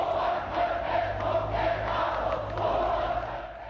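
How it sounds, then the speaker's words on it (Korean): A large crowd of protesters at a 1987 street demonstration in Jeonju, a continuous roaring chant of many voices swelling and easing, heard at a moderate distance. "시위대의 거친 함성이 전주 팔달로 일대를 가득 메웁니다."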